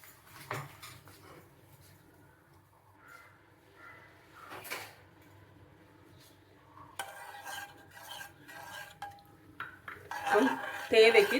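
Utensil clinks and a spoon scraping in a pot as tempering is stirred into moong dal pressure-cooked for four whistles, made for a Karnataka-style bonda soup; scattered clatter throughout, busiest and loudest near the end.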